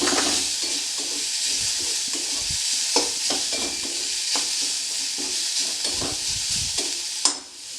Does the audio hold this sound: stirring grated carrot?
yes